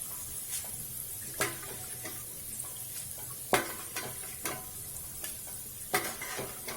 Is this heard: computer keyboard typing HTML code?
no